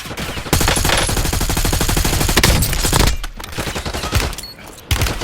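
Warzone video game gunfire: loud, rapid automatic bursts crackle almost continuously for several seconds, then break into shorter scattered shots and a final sharp report.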